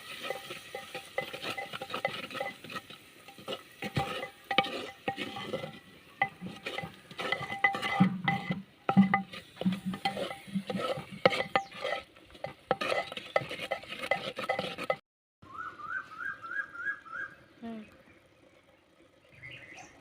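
Chicken masala paste being stirred and sautéed in a clay pot, with repeated scraping and sizzling strokes up close for most of the stretch, then a brief quieter gap and some softer clinks near the end.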